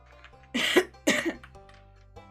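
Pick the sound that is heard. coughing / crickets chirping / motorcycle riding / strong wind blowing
coughing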